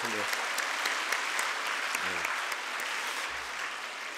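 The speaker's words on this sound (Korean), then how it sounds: "우리 축하의 박수 한번 드릴까요?" Congregation at a Christmas Eve youth church service applauds in celebration, a steady mass of clapping heard from across the sanctuary, with a few low voiced murmurs over it.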